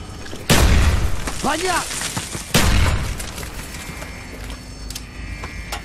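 Two heavy booms from grenade blasts in Call of Duty Black Ops, close and loud a couple of seconds apart, with debris rumbling after and a voice talking and shouting between them.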